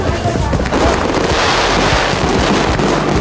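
Loud, dense crackling and booming of fireworks going off close by, mixed with wind rumble and faint voices.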